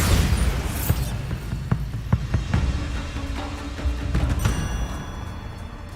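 A Bombarda blasting spell explodes in Hogwarts Legacy, giving a booming blast followed by a string of sharp cracks and debris impacts over several seconds, with a low rumble underneath and no talking.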